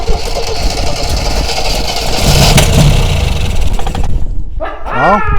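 A 1974 MGB GT engine cranks and catches, then runs rough and loud at close range before cutting out, followed by a few short high-pitched yelps, likely a dog.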